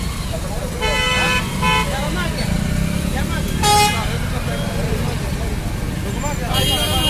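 A highway jammed for hours in Koregaon after a banyan tree fell across it: car horns blare in several short and long blasts over a constant rumble of idling engines, with people talking loudly throughout.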